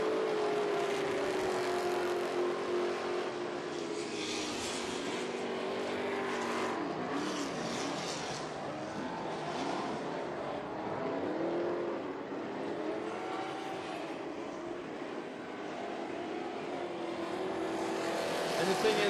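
Short-wheelbase 4x4 off-road race trucks in a TORC series race, with a continuous engine roar and revving that rises and falls while a commentator talks over it throughout.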